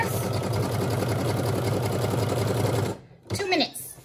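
A Brother SE1900 embroidery machine stitches a dog leash with a rapid, rhythmic mechanical chatter that runs steadily for about three seconds, then stops. A short spoken remark follows.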